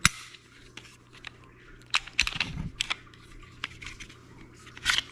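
Glock 19 pistol being cleared and its slide removed: a sequence of sharp metallic clicks and snaps, several close clustered clacks with quieter handling rattles between, no talking.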